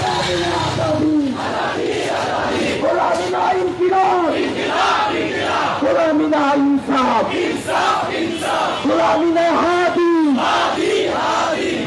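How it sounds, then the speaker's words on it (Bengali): A protest march crowd in Dhaka heading toward the University TSC chants loudly in unison, with repeated rhythmic shouted phrases rising and falling steadily throughout, close and dense. "দর্শক দেখতে পাচ্ছি আমরা এই মুহূর্তে বিক্ষোভ মিছিল কিন্তু এগিয়ে যাচ্ছে ঢাকা বিশ্ববিদ্যালয় টিএসসি অভিমুখে"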